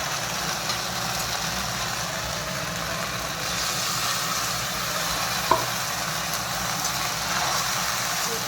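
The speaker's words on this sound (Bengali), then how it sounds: "এগুলো একটু ভালো করে ভেজে নেব।" Ginger and cumin spice paste frying in a pan, a constant broadband sizzle with a low hum beneath and one brief utensil click midway, close and steady.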